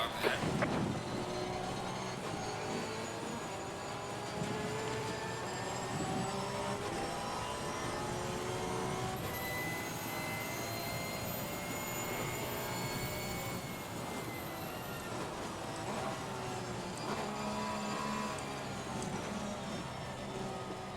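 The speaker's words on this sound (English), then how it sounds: "So I've got lower, higher tier cars coming past me." Race cars at Monza in the Assetto Corsa Competizione video game, with engines roaring steadily and pitches sweeping as lower and higher tier cars pass, loud and continuous for the whole stretch.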